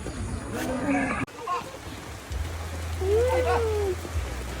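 Rain falls during a fiesta lechon roast in Anislagon, giving a steady, soft hiss throughout. A low hum and brief voices sit beneath it.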